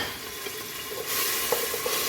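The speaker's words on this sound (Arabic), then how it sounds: "يتقلع عندي البصل والثوم" Onion and garlic frying in oil give off a steady sizzle that grows louder about halfway through, with a few soft stirring taps near the end.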